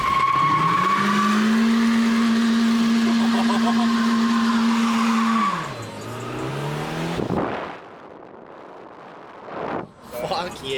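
A Toyota AE86 on its first test drive after front suspension work: a loud sustained engine drone with tire squeal that drops away, then quieter rumbling, shifting and rustling near the end.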